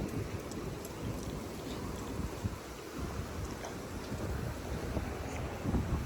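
Strong wind roars and buffets the microphone continuously, a dense low rumble with no pauses and no voices.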